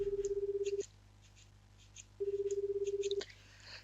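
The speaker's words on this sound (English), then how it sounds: "Kano immediately pulled out his cell phone and called Tenno's number" A cell phone in the video game 428 Shibuya Scramble sounds two buzzing, pulsed tone bursts, the second after a short gap, clear and alone with faint clicks in between.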